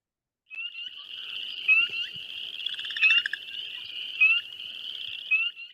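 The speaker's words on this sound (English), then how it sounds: "beep, beep, beep is your spring peeper" A few spring peeper frogs calling at low abundance, sharp high peeps repeating every second or so over a thin chorus frog trill in the background, clear and fairly close with no talk.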